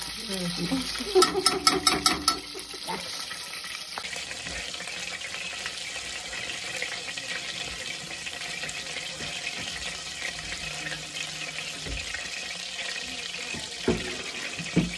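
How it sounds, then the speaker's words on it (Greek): Kitchen tap water pours into a pan, following a few seconds of clattering and sizzling oil, then settles into a steady, moderate running stream with faint background movement. "Βάλαμε νερό από την βρύση."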